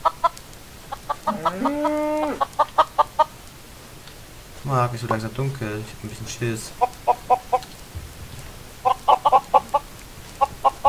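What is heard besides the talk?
chickens clucking in video game Minecraft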